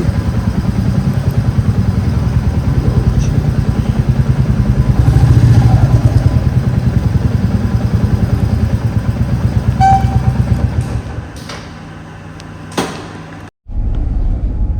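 A motorcycle engine runs steadily with a rumbling, clattering tone for about eleven seconds, then cuts out briefly before a lighter engine sound resumes.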